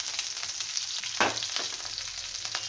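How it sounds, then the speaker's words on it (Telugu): Onions and curry leaves fry in a pan for a spicy cabbage pappu, a steady close crackling sizzle with a brief stirring scrape in the middle. "ఇప్పుడు వీటిని బాగా వేగనించాలి, గోల్డెన్ బ్రౌన్ కలర్ వచ్చేంత వరకు వేగాలి."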